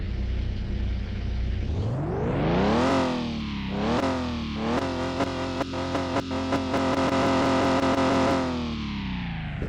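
BMW M4 engine heard from inside the car in the Car Mechanic Simulator 2021 video game, loud revving that climbs, dips and rises again in repeated throttle blips, with a harsh distorted rasp.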